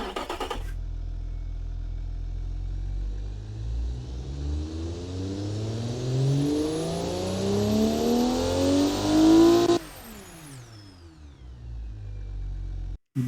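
A car engine built in the Automation game revs up in one long sweep, climbing steadily in pitch and growing louder before cutting off sharply at the limiter, then idling briefly.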